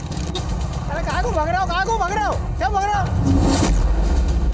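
Motorcycle riding along a forest road during a chase, its engine a steady low rumble throughout, with an excited voice shouting over it in the middle of the ride.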